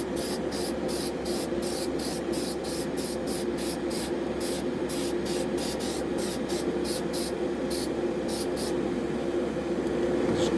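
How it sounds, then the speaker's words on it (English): An aerosol can of primer sprays model kit sprue trees hung on a rack, in a long series of short rhythmic bursts with brief gaps over a steady low background hum, close and fairly loud. "And then we're going to throw some primer."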